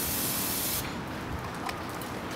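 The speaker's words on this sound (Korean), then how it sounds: "더 뿌려서 사용하시면 되겠습니다." Noroo Paint Snow Clean de-icing spray hisses from an aerosol can in one steady, close, loud burst that carries through the clip, easing slightly after the first moments, with no talk.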